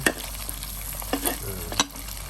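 Noodles and egg stir-fried in a hot pan, a continuous close sizzle broken by a few sharp scrapes and clanks of the spatula tossing the food.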